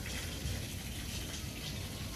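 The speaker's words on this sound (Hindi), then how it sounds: "पानी, हाँ यहाँ से पानी लीक हो रहा है." Water leaks from a fitting at a house in Dubai, making a steady, faint gushing and hissing flow that continues unbroken, with no talk over it.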